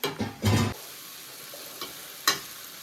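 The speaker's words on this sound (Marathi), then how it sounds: "सो सुकट पूर्ण टाकली आहे, सुकट अशी मस्त फ्राय पण झाली आहे" Dried shrimp (sukat) frying in a pan with onion, coconut and garlic paste, heard as a brief burst of stirring and sizzling up close, then quieter scrapes and taps, with no talk.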